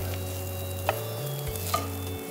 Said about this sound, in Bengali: ঘি দিয়ে আমরা লাউটা হ্যাঁ, ভেজে নিচ্ছি।